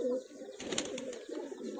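Punjabi Tara pigeons coo softly in a loft, low throaty murmuring close by, joined by brief sharper clicks and rustling partway through.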